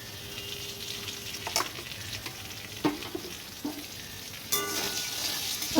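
A pan sizzles steadily as food fries, broken by occasional scraping stirs and clacks of a utensil; no talking.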